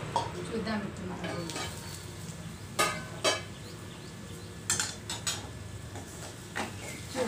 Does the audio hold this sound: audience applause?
no